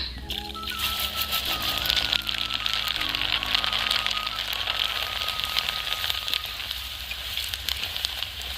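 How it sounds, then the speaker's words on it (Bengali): Sago pearls fry in hot oil in a wok, giving a steady, dense sizzle with fine crackle that holds at an even level from start to end, with no voices. "এবার তেলের মধ্যে আমি সাবু দিয়ে দিচ্ছি"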